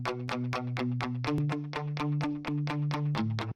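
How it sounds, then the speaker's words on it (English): An electric guitar stands in for bass in a slap house track, its lows cut out, playing a steady plucked bass line of rapid repeated notes that shift pitch a few times, heard alone. "I added this bass guitar"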